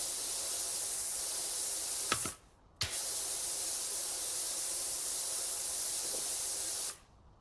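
A pressure washer sprays steadily in PowerWash Simulator 2, a loud hissing jet that cuts off briefly twice with clicks before resuming, then stops near the end.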